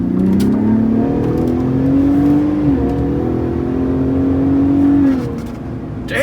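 A recovered manual Cummins diesel pickup truck accelerates hard, its engine note rising steadily through the revs, dropping briefly at a shift, then climbing again before easing off; loud and close, with no talking.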